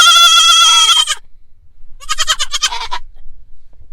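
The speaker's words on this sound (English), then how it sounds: "I have a tiny goat who's very angry right now." An angry young dairy goat bleats twice, a long piercing cry followed by a shorter wavering one after a brief pause, close and loud.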